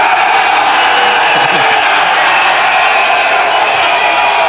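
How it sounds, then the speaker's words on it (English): A large cricket crowd at a 1999 World Cup match between Pakistan and New Zealand, a loud continuous roar of cheering and whooping with no break. "I think the crowd are happy."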